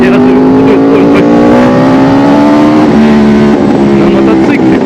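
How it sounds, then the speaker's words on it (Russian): A Yamaha R1 one-litre sport motorcycle accelerates hard in town, its loud engine note climbing steadily in pitch and then dropping briefly at a gear change before rising again, with a voice speaking over it. "зачем я сейчас ускоряюсь?"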